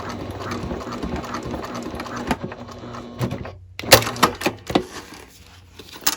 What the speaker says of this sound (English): I'm stopping and I'm going to sew a second time